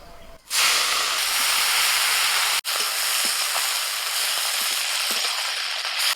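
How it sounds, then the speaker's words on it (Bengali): Spring onion leaves hiss and sizzle loudly in the oil left from frying silver carp in a wok, a steady close sizzle starting abruptly and holding throughout after a brief cut. "কড়াইতে যে মাছ ভাজার তেল আছে ওর মধ্যেই আমি দিয়ে দিচ্ছি পেঁয়াজ পাতা"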